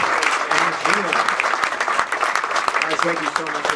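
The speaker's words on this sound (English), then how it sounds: "why don't we give a big round of applause to our guys" A real estate meetup audience claps in a dense, lively burst of applause that continues steadily for several seconds with some voices mixed in.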